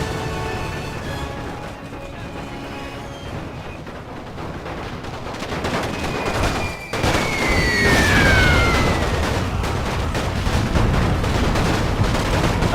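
Battle gunfire in the video game Napoleon Total War with the Great War mod, a dense continuous crackle of rifle and machine gun shots with distant booms, steady and loud throughout with a faint whistling streak in the middle.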